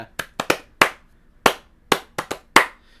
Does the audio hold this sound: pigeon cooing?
no